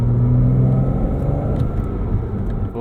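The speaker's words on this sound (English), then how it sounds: "already have a fantastic induction noise" A 2005 Porsche Boxster S with a manual gearbox and flat-six engine gives a loud, steady induction roar and rumble while driving. Engine tones sweep through the sound as it pulls under throttle, with no talking.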